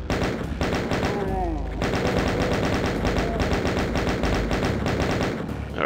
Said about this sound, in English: So stepping off there activates all those chain gunners.